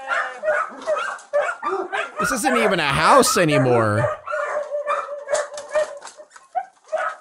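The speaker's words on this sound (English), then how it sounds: "that's not a good sign that that dog is so terrified" A terrified dog barks, yips and whimpers in a rundown house, loud and close, with a long stretch of high yelping in the middle while someone talks throughout.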